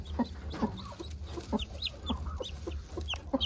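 A broody hen clucks softly and repeatedly in a coop at night while newly hatched naked-neck chicks peep in high, thin bursts close around her, steady and near.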